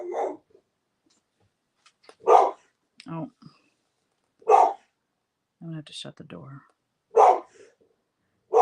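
A pet dog barks in short, loud bursts four or five times, spaced a couple of seconds apart, with a person talking in between.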